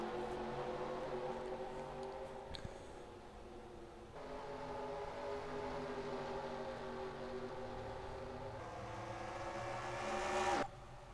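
Race car engines drone steadily at Phoenix as the field restarts to green flag racing, layered engine tones rising and falling, with a louder car sweeping past near the end.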